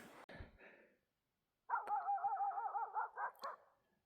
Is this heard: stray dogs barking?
yes